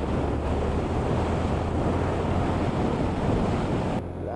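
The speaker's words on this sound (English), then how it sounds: "Oh, there's some wind floating around today." Strong wind buffeting a microphone in a continuous roaring rush outdoors in Croydon, cutting off abruptly near the end.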